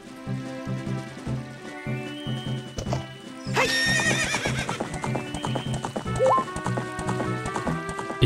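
A horse gallops in Zelda: Ocarina of Time Master Quest on GameCube with steady, rapid clip-clop hoofbeats over game music. A loud neigh rises partway through, and the hooves keep drumming to the end.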